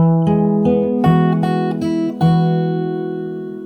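Fingerstyle acoustic guitar picking a slow melodic phrase from a song, with a handful of plucked notes ringing out clearly one after another and sustaining into a long fading decay.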